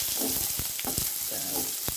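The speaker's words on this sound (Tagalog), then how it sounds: "Lagay tayo ng sibuyas" Onions hit a hot pan and fry with a dense crackling sizzle, punctuated by sharp stirring scrapes and clacks, close and busy with no talking.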